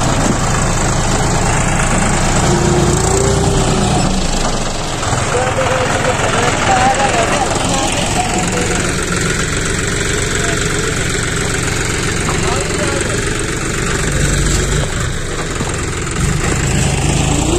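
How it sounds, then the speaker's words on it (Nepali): A tractor engine rumbles loudly and steadily as it enters the construction site of a soap factory where gravel is being laid for the foundations. Voices are mixed into the continuous engine noise. "ट्र्याक्टर पनि छिरिरहेको छ"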